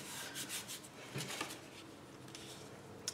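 Soft scraping and rubbing of paper being trimmed for a collage, a close, quiet, uneven rasp with brief louder strokes and no voices.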